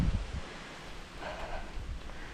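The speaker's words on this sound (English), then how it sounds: "It's really windy up here," Steady wind buffets the microphone on a mountain trail along the Arkaquah Trail, producing a continuous low rumble with soft rustling and no talking.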